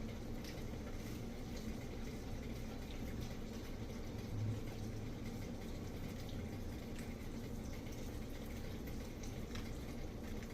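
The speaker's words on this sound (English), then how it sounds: "got some boiling water in my kettle already, and we're just gonna pour." Steady low gurgling rush of boiling water pouring continuously from a kettle into a vessel, fairly quiet and unbroken for the whole stretch.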